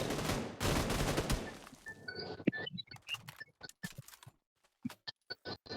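Gunfire in PUBG New State, a mobile battle royale game: a heavy burst of automatic fire at first, then scattered sharp single shots and clicks with quiet gaps between them.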